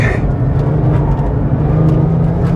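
Porsche 911 GT3 on a race circuit, its engine droning steadily and loud from close by, a continuous low harmonic hum with a brief high whine at the start and no voices.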